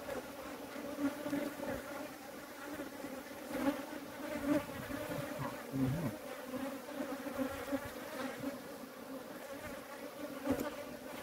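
A steady, close buzzing of bees at a honey-filled wild hive in a rock cliff in the mountains fills the whole stretch, with a dense droning hum that swells and dips as insects move about.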